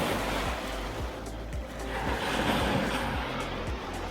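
Waves from Lake Michigan wash onto a beach in a steady, loud surge, with rushing water and repeated low thumps of surf breaking close by, and no talking.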